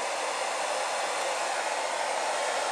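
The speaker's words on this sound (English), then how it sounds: "Take your blow dryer once again." A handheld blow dryer runs steadily at close range while drying and smoothing a lace front synthetic wig, a continuous loud airy whoosh with no pauses or talk.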